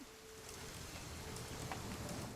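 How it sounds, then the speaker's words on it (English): Steady rain pours in the video game What Remains of Edith Finch, a constant soft hiss of drops on surfaces, even and moderately distant, with no voices. "It's gonna rain the whole weekend, isn't it?"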